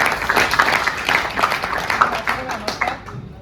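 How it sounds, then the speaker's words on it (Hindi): Audience applause at an indoor community event, a dense wash of claps from a gathered crowd that holds steady for a few seconds before tapering off, with some voices mixed in. "एक बार जोरदार तालियां।"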